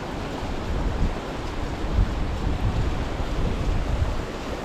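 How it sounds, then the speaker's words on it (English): Wind gusting across an outdoor winter wild camp in Northumberland near a waterfall, a steady low roar with a couple of stronger surges, no voices. "Little gust there, 10 mile an hour winds"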